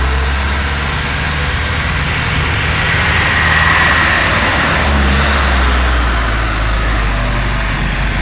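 A truck labours up a mountain road on Gunung Pendering, its low engine drone steady and fairly loud throughout, with broadband road and wind noise on top and no speech.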